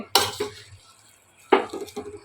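Mava roasts in ghee in a pan while a spatula stirs it, making two clusters of close metallic clanks and scrapes against the pan with quiet pauses between them.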